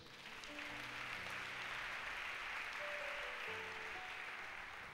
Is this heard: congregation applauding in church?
yes